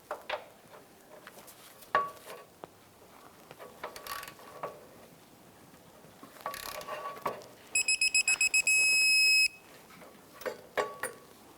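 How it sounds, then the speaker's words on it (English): Ratcheting torque wrench clicks while tightening steering rack bolts to 81 foot-pounds on a 2002-2009 Chevrolet Trailblazer, with scattered metallic ratchet strokes and a brief rapid run of sharp electronic beeps partway through. "tightening these and then torquing them to 81 foot-pounds"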